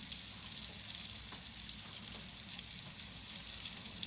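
Chicken tenders frying in hot oil on a lowered stovetop heat, giving a steady, even crackling sizzle that runs unbroken at moderate level with no talk over it.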